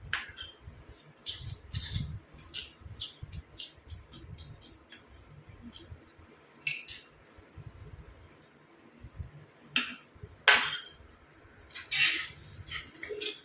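A spoon clinks against a bowl as hair dye paste is mixed with a decoction poured in bit by bit: irregular light taps and scrapes, close by, with short quiet gaps between strokes.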